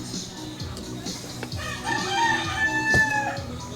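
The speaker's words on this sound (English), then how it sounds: "Ah, we got roosters." Roosters crow near and clear at a breakfast spot in the Philippines among dogs and chickens, a couple of drawn-out cock-a-doodle-doo calls rising over faint clucking and low background murmur.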